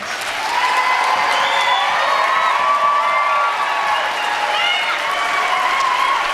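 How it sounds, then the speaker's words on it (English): Audience applause and cheering for graduates at a pinning and hooding ceremony, a steady wash of clapping with shouts and whoops rising over it, sustained and fairly loud. "Let's give all those graduates a round of applause."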